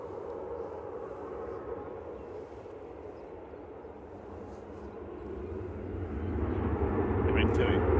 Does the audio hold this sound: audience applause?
no